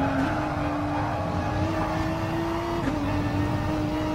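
Renault RS01 Gr.3 race car engine held at wide-open throttle around Laguna Seca in GT Sport, a steady, loud, close droning whine with a slowly shifting pitch, alone with no talk.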